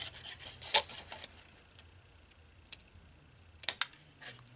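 Scissors snip through paper in two quick bursts, the first near the start and a double snip later, with faint rustling of paper in between, close and quiet.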